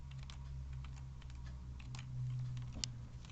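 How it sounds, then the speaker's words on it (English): Arrow keys tapped on a computer keyboard, a string of light, quick clicks at uneven intervals, close but quiet, over a low steady hum with no talking. "Making that arrow flash is just me on the arrow keys."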